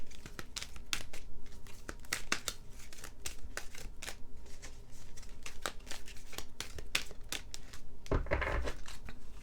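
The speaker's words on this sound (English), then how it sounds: "We're going to draw from the Black Moon Astrology deck." Cards from a Black Moon Astrology deck being handled, drawn and shuffled, giving close, quiet crisp snaps and papery flicks in irregular bursts, with a slightly louder rustle near the end.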